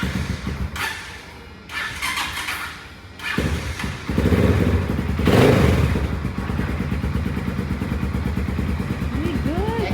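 A motorcycle engine idles and revs nearby, its exhaust note rising and swelling in bursts over a steady mechanical rumble, with people chatting in the background.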